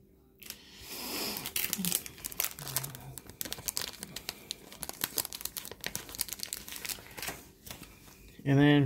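Dragon Ball Super Card Game Namekian Boost booster packs crinkle and tear open up close, a steady run of foil crackling and rustling over about eight seconds, with a sharper burst near the end.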